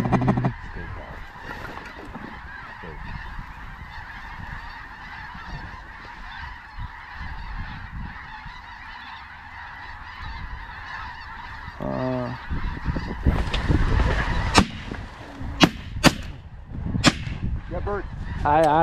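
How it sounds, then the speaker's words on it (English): Flocks of waterfowl fly in over decoys in a North Dakota cornfield, a dense continuous chorus of distant quacking and honking, then closer calls with sharp shotgun blasts near the end. "More ducks coming in."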